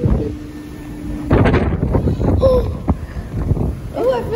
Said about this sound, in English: You're gonna feel the gust of wind if it comes.